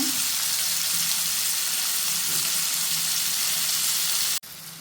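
Potatoes with spices sizzle and fry steadily in a pan, a continuous close crackling hiss that cuts off abruptly near the end.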